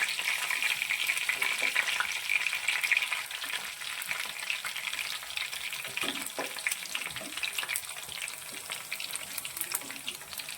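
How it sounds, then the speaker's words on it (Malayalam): Fish frying in oil with curry leaves for meen pollichathu: a close, continuous hiss and sizzle with fine crackling that holds steady for about ten seconds, with no talking. "ഇനി നമ്മൾ ഈ മീൻ എണ്ണയിലൊന്ന് വറുത്തെടുക്കുവാണ്."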